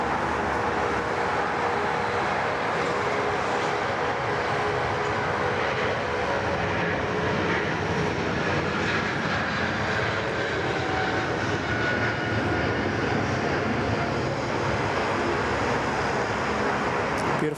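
An Air Canada airliner roars through its takeoff at Sydney Airport, a loud, steady, broadband jet rumble sustained throughout with a faint whine riding on top and no voices.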